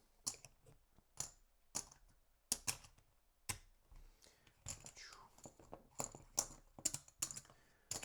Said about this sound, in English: let's just do some little pile shuffles